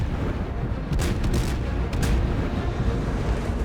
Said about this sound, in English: I ordered the senior artillery officer to open fire with armor-piercing shells